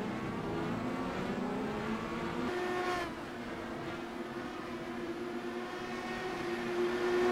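Several race cars run together on a circuit during an auto race, a sustained engine drone with shifting pitch as the cars pass, fairly steady and moderately loud with no talk over it.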